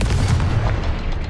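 Confringo fire spell blasting in the Hogwarts Legacy video game, a dense, booming low rumble of continuous explosive bursts sustained loudly throughout, with no talk over it.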